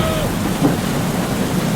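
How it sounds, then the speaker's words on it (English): Thunder rumbles with steady rain in a stormy scene of the Airplane 3 video game, a continuous dense wash with a brief swell near the middle. "Lightning and the thunder."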